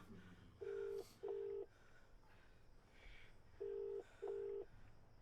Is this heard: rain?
no